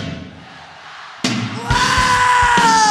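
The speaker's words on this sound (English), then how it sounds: "Cause they're screaming." A concert crowd at a 1989 live rock show in Tokyo yells and screams, starting as a distant murmur, then bursting into a loud roar that keeps swelling with sustained high cheers.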